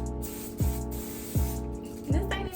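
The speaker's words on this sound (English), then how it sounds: "Alright, I'm gonna do one more spray." Short hissing bursts from a spray bottle misting a lace wig unit, three quick pumps about a second apart over a steady background hum, close by.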